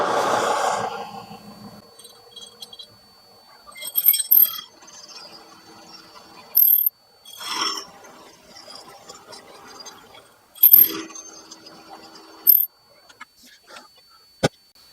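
Aluminum tubing being cut for a Suzuki GS1100 bobber motorcycle build, heard as a series of short, sharp metallic bursts and clinks spaced across the clip over a steady background hum, with no talking.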